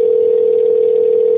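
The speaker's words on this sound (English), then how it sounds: "I can hear your phone ringing." A phone gives a single steady electronic tone, loud and close, that holds unbroken through the whole short stretch with no voices.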